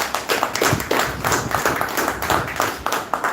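Audience at a live campaign gathering in Assagao, Goa claps for a leader, a dense burst of many hands with sharp individual slaps standing out, fairly close and steady throughout.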